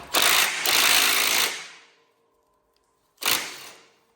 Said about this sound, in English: Helps if you have the impact on the right, counterclockwise.